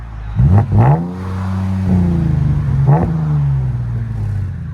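A 2015 Mercedes E350 with a 3.5L V6, resonators and muffler delete, heard loud and close outside as the engine blips in two quick revs, then settles into a steady droning idle with another short rev.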